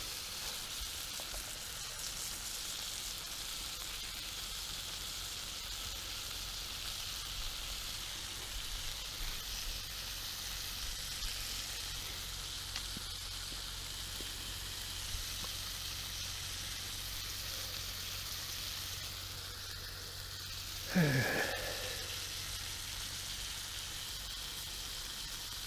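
Food frying in a pan at a campsite on a motorcycle trip, a faint steady sizzle under a low background hum, broken near the end by a short sharp scrape or clatter.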